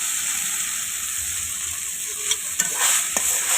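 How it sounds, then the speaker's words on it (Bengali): Noodles stir-fried with fried onions in a pan, a loud, constant sizzle with a few sharp scrapes and clinks of the utensil near the end. "এখন সম্পূর্ণ ভালোভাবে মিশিয়ে নেব সব কিছু একসাথে।"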